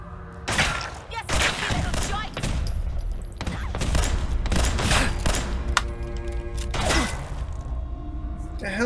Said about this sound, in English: the hell is shooting at me?